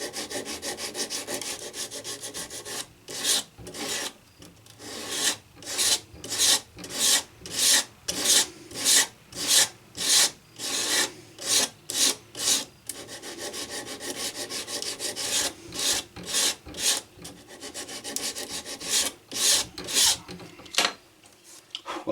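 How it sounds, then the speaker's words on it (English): Sandpaper wrapped around a wooden block gently sands the top of a feather quill for arrow fletching. About twenty close, rhythmic rasping strokes follow one after another with no talking. "I just wrap some sandpaper on it and just very gently sand the top of the quill so that it's more flat"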